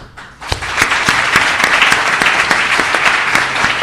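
An audience bursts into sustained applause after a talk on ethical and successful careers, loud and dense clapping with sharp individual claps standing out, starting abruptly and continuing to the end.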